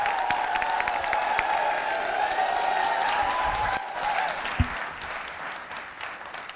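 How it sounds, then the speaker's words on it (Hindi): Audience applause for a contestant named Meena at a teachers' training college quiz show, a steady dense clapping that fills the whole stretch, easing slightly toward the end, with a sustained tone running underneath. "मीना के लिए जोरदार तालियां बजाइए, जोरदार तालियां बजाइए, तालियां जोरों से बजाइए"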